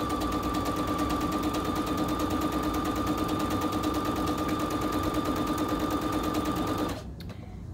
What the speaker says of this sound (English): So just going to sew down.